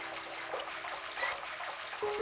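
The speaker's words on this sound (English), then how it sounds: "I held the towel under the faucet and soaked it with water." Water runs from a faucet onto a towel in the point-and-click game Broken Sword: Shadow of the Templars, a soft, steady trickle and splash lasting a couple of seconds, faint and alone with a brief higher tone near the end.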